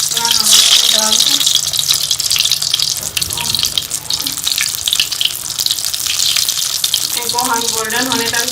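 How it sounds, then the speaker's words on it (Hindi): Dahi vada (lentil fritters) sizzling as they fry in hot oil in a home kitchen, a steady bubbling hiss throughout with occasional voice in the background. "अब हम इसमें जो है ये दही बड़े इसे फ्राई कर लेंगे।"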